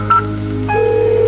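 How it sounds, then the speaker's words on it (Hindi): A phone being dialed to call a son at a staged skit at a fair ground: a few short electronic tones in quick succession, close and loud, with a hum underneath. "अरे जरा फोन लगाकर पूछ तो लूं कि वो घर पहुंचा या नहीं"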